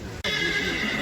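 A seven-year-old stallion at a horse market in Uzynagash gives a loud, close whinny that begins after a brief gap and carries on to the end, with no one speaking over it.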